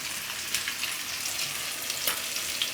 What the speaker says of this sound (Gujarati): થી 3 મિનિટ આને પકાવી લેવું આપણે.